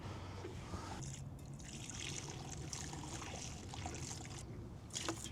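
Fuel trickles and splashes from a Ducati Monster motorcycle tank in a wet, irregular dribble that runs continuously and faintly, close by, with occasional louder splatters.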